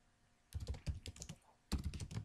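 Typing on a computer keyboard while writing a code comment, two quick bursts of clattering keystrokes separated by a short pause, close and clear with no talking.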